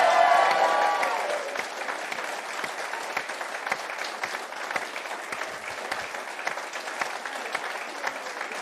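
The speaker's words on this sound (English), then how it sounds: "A big cheer for Ian Murray." A political rally crowd in Scotland cheers and applauds loudly after a new Secretary of State for Scotland is named, with an early shout of whoops easing into steady, dense clapping that continues throughout.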